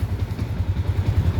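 Low, steady putter of a motorcycle engine running near the listener, its rapid rhythmic thumping continuous and fairly loud, with no talking.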